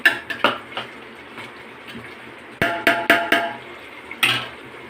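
A metal utensil clanks and scrapes against a cooking pot as large pieces of marinated meat are mixed, giving a burst of clinks near the start and another cluster of sharp knocks later, close and clear.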